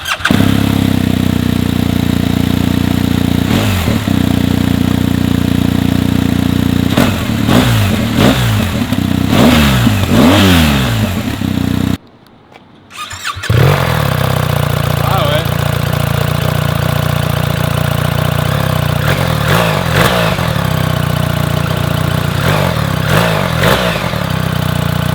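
A BMW GS motorcycle engine runs close and loud, idling and then revving in repeated rising bursts. After a brief drop-out the engine returns at a steady roar, with voices at times underneath.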